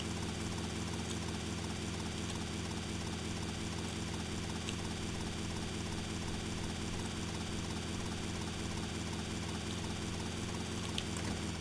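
Steady helicopter rotor thumping with engine drone from GTA Vice City, continuous and fairly loud throughout with no talking.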